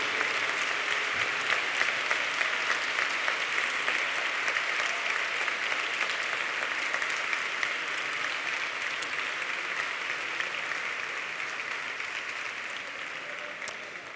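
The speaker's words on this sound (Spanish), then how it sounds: "Aplaudiu, aplaudiu." A large audience claps steadily and densely at a university graduation ceremony, sustained applause filling the hall at an even level for about fourteen seconds, tapering slightly toward the end.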